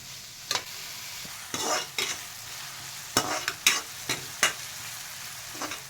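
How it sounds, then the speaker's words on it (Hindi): Mustard greens sizzle steadily in a pan while a spatula scrapes and clatters in irregular bursts as they are stirred and sautéed until brown. "थोड़ा अच्छी तरह से भूनेंगे इसको ब्राउन होने तक।"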